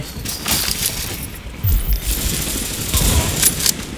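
Bursts of gunfire in Tom Clancy's The Division, rapid sharp shots in clusters over a rumbling game background.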